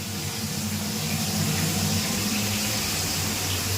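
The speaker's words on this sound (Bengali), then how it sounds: "ঠিক আছে তাহলে মাছটা ভাজা হয়ে যাক" Rohu fish fries in hot oil with a steady, dense hiss that holds unbroken for several seconds, close by and fairly loud over a low background hum.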